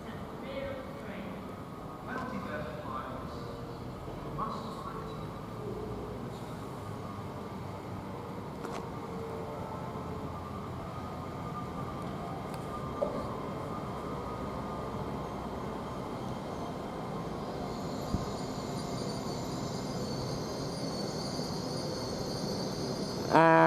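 An LNER Class 802 train at Durham station, its low rumble and whine rolling steadily under people talking for the whole stretch, with a few sharp clanks and a brighter hiss rising near the end.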